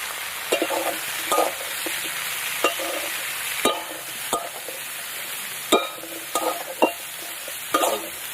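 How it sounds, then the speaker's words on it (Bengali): A spoon stirs pangas fish curry with turmeric, salt and green chillies in a frying pan, giving a steady sizzle broken by a series of sharp scraping clinks at irregular intervals. "সব কিছু দিয়ে নাড়াচাড়া করে দিয়ে দেবো"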